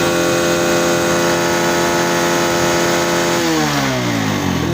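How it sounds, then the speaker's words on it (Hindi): A Suzuki GS150 motorcycle engine under tune-up revving up close, a loud steady rev that drops and settles back toward idle near the end. "स्टार्ट कर दी, ठीक है, टैपेटो की आवाज़ वाज़े, टाइमिंग चेन की आवाज़ वाज़े"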